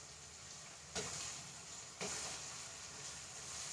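Washed raisins dropped into hot oil for a dried bilimbi pickle, giving two sudden bursts of sizzling about a second apart that settle into a steady, close frying hiss.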